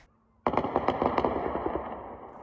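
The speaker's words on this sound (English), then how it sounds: "I heard the air defenses working." Air defense systems fire at drones over a city at night: a sudden burst of rapid cracking shots rings out loud and echoing, then fades into a rolling reverberation.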